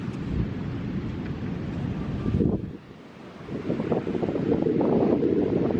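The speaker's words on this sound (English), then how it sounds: "Look at those waves." Ocean waves breaking on a beach, a heavy low roar of surf churning steadily with a brief lull midway, muddied by strong wind buffeting the microphone.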